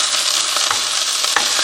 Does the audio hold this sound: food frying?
yes